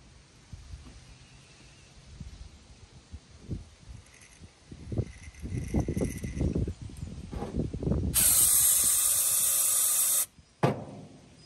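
A sustained hissing spray of starting fluid into the engine of a 1953 GMC 1-ton truck, loud and steady for about two seconds, follows some rustling and handling noises, then cuts off with a brief burst afterward.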